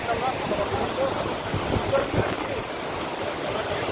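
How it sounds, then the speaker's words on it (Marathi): Steady roaring rush of a large waterfall, broad and continuous, with faint voices mixed underneath. "ते मोठं धबधबा"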